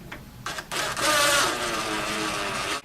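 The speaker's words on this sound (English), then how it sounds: "Now we want to take our 1/2 inch flathead screws just to lock those L brackets in place." A power driver sinks half-inch flathead screws into L brackets during base cabinet assembly: a couple of short whirring blips, then a steady, loud drive up close.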